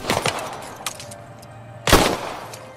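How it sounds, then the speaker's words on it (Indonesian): Weapons are test-fired in a film scene, with a few sharp gunshot bursts at the start and a loud single crack near the end, separated by a low hum. "lalu ia mengajak Mike untuk mengetes senjatanya"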